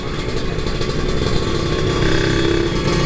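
A 2015 Kawasaki Ninja RR motorcycle engine runs loud and close, holding a rough, throbbing rev that swells slightly louder toward the end, with no voices.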